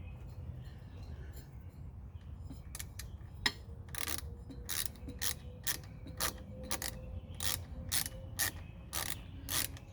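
Ratchet wrench tightening the fly-by-wire grip on a 2021 Harley-Davidson Street Bob FXBBS, giving a steady series of sharp, close clicks in bursts over low workshop hum.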